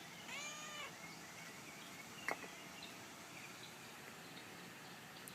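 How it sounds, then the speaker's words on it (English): A small cat gives one brief, faint meow early on in a quiet indoor room near a vertical orchid rack, followed by a soft single click and then near silence. "I'm being pestered by this little cat."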